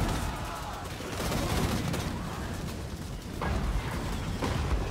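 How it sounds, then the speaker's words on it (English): Hellblaster volley guns blasting at point-blank range during a Warhammer battle, a dense, continuous roar of rapid overlapping gunfire with sharper cracks standing out near the end. "giving more time for the Hellblaster to fire its guns point blank range"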